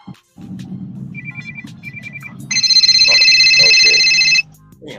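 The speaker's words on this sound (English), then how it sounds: "my phone started ringing." A mobile phone goes off: soft chirping notification beeps first, then a loud sustained electronic ringtone for about two seconds, cutting off abruptly, over a low background murmur of voices.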